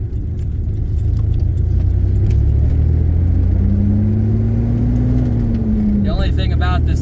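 A 1990s Chevrolet Blazer with a five-speed manual transmission drives along with a loud, steady low rumble heard from inside the cab. A whining tone slowly rises and then falls, and someone speaks briefly near the end.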